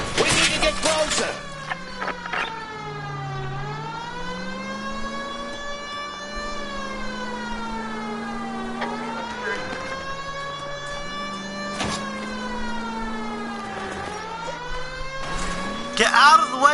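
An emergency vehicle siren in L.A. Noire wails continuously, rising and falling in long, slow sweeps, loud and close, with brief bursts of other noise at the start and end.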